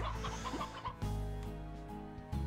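Chickens clucking in the video game Slime Rancher, a few soft, quick clucks over a steady game soundscape with layered tonal music, fairly quiet and without talk.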